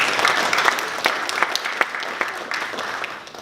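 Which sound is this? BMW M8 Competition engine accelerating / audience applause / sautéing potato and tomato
audience applause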